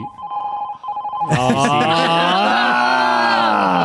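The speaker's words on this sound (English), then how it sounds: "behind this closed door of an office, you hear phones ringing off the hook in the call center" Telephones ringing in a call center, a quiet tone that gives way to several loud, overlapping bell rings that continue steadily to the end.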